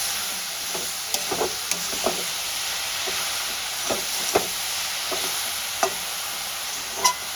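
Grated carrot halwa made with Amul milk fries steadily in a pan, a soft continuous sizzle broken by occasional light scrapes and stirs, close and moderately quiet with no voices.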